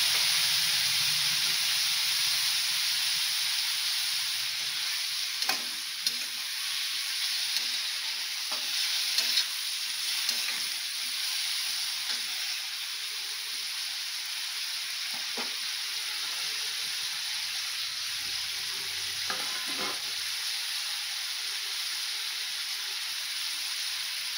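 A cauliflower samosa filling fries and is stirred in a pan over medium heat, giving a steady close sizzle and hiss with occasional soft scraping of the spoon.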